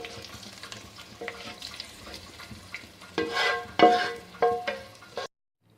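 Mustard greens for sarson ka saag sizzle and crackle in hot oil while being stirred, with scraping and a few sharper clanks of a utensil against the pan.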